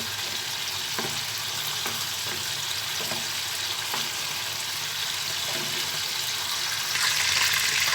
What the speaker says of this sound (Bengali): চিকেনটা আমার জাস্ট এরকম একটু ভেজে নিব